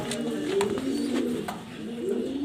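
Domestic pigeons, including a pair of high-quality Giribaz birds and a young racer, coo in repeated soft low calls close by, with faint chirps and background noise and no talk.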